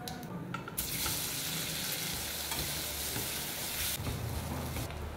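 Boiled potatoes, cumin and turmeric sizzle loudly in hot mustard oil, a dense continuous frying hiss with bursts of stirring, close and uninterrupted by talk.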